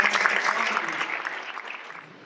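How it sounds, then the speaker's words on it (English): Audience applause following a startup pitch at a university new-venture competition: a full round of many hands clapping, strongest at first and then gradually thinning and fading out. "have a round of applause"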